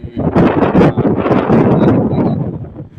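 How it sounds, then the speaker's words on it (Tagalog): Strong wind gusts batter the microphone in loud, rough bursts, buffeting continuously for a few seconds before easing. "ang lakas ng hangin"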